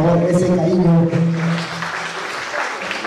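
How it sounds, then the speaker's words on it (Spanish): Audience applause at a San Martín de Porres event in Sanremo, Italy, brief crowd clapping that swells in after a voice, moderately loud and somewhat distant, with talk over the start. "Un aplauso fuerte que se sienta, por favor, ese cariño."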